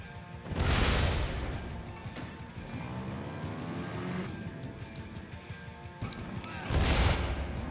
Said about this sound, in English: I think it's explosions.